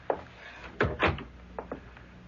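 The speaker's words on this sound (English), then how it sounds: "Come into the library and shut the door behind you." Radio drama sound effect of a door being shut, with a brief creak followed by a couple of solid wooden thuds and a softer rattle of the latch, close and alone without talk.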